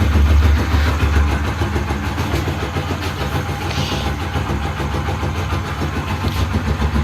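A Yamaha YBR motorcycle engine, just fitted with new piston rings, fires up and settles into a steady, loud, close idle with an even mechanical putter.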